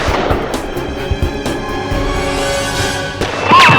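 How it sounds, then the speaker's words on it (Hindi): Gunfire in a Hindi courtroom crime drama, loud sharp shots cracking in quick succession close by over a tense music score, with a ringing tone rising near the end. "आते ही मैंने गोली चलाई।"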